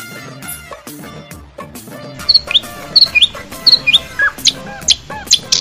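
Sparrows chirp in quick, bright bursts close by, a string of sharp repeated tweets over a busy background of other bird calls and clucking.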